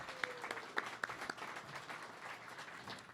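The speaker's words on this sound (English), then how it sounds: "Can we clap for Christina?" Audience applause at a creative finance talk, honoring the event's organizer Christina: a fairly faint spread of scattered hand claps with a few sharper individual claps standing out, sustained for a few seconds.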